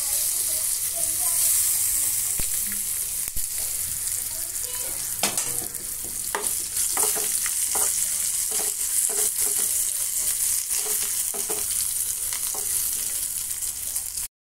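Garlic and ginger fry with cumin seeds in a pan, making a steady, close sizzle with broadband hiss throughout and scattered clicks and scrapes of stirring.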